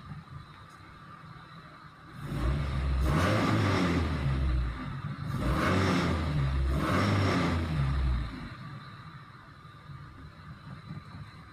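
EFI car engine idling at steady stationary RPM after an ECU fault is resolved, a low continuous rumble that swells louder in two long stretches before settling back to a quieter hum.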